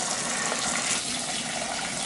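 Water gushes steadily from a tap, filling 5-litre buckets almost to the top in a greenhouse for watering tomatoes, a loud, continuous, close rushing hiss with no talk.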